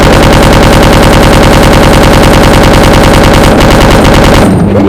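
Submachine gun in Resident Evil 2 firing a long unbroken burst at a zombie, rapid evenly spaced shots, very loud and close, stopping abruptly near the end, no talking.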